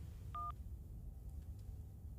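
A phone being dialed in the video game Scarlet Hollow, one short bright electronic dial tone near the start over a low humming background, with a few faint clicks afterward and no talking.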